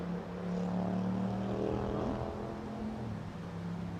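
An Aeroflot Airbus A350 airliner arrives at Heathrow, a steady moderately distant engine drone that holds for a few seconds without talk.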